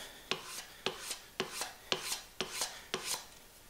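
A blade edge being stropped on the smooth side of a leather strop after rouge, giving a steady series of about seven sharp swipes, each a quick bright stroke with a softer follow-up, close and fairly quiet, with no talking.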